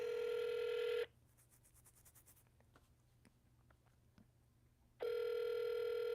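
A telephone line plays a loud steady dial tone, then falls quiet through a soft run of keypad beeps and faint clicks, before the tone returns loudly, while a prank call to the Church of Scientology is placed.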